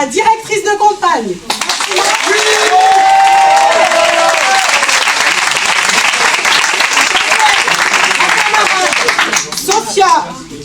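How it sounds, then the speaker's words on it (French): Audience at a municipal election campaign rally in Clichy-sous-Bois breaks into loud sustained applause with cheering, swelling after a speaker's call and holding for several seconds before fading under a voice. "Un premier applaudissement pour ma directrice de campagne."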